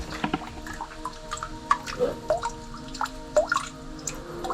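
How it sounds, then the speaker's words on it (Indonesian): Spring water drips drop by drop during the dry season, a close series of small, irregular plinks and splashes over a quiet, faintly humming background. "Walaupun musim kemarau tetap selalu ada, walaupun hanya berupa tetesan seperti ini nih."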